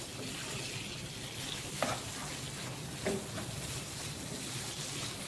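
Dried fried anchovies are stirred through sizzling chilli paste for sambal ikan bilis, giving a steady frying hiss with a couple of brief scraping sounds from the stir.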